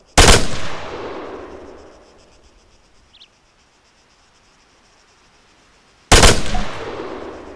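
Two loud, sharp rifle reports in the video game Arma 3, the first at the start and the second near the end. Each one crashes out with a long decaying echo, and near silence falls between them.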